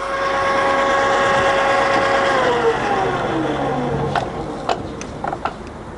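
A Ta Shing TSD-1000 radial arm drill runs at its slowest 32 RPM setting, a steady mechanical hum with a gear whine that drifts downward, followed by a few sharp clicks and clunks near the end.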